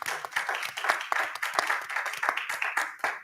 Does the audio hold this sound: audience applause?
yes